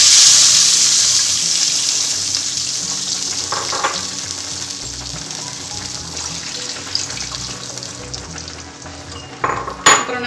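Water pours into a hot pan for rava pongal, giving a loud hiss and sizzle at first that settles into a steady bubbling wash, with a few sharp clinks of utensils near the end.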